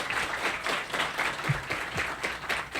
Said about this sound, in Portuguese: pedir uma salva de palmas para todos que vieram do interior do estado